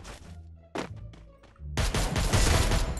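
Vector submachine gun firing in a Thai-commentated battle-royale game match in ranked Master mode: a short burst, a pause with separate shots, then a dense, loud sustained volley of rapid gunfire to the end.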